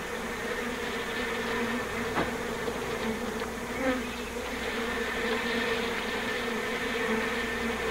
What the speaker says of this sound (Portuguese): O segredo de Chadwick para se lidar com abelhas é, primeiro, saber o que estão fazendo